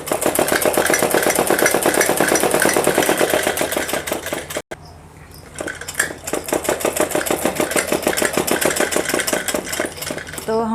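A sewing machine stitches a suit seam with a loud, fast, even mechanical chatter that stops briefly and then runs again.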